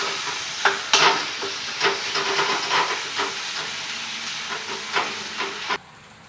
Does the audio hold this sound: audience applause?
no